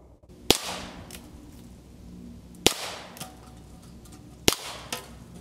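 Revolver shots from a 16-inch Heritage revolver fired at tin cans outdoors: three sharp, evenly spaced cracks about two seconds apart, each followed by a faint metallic ping or echo, with no talk.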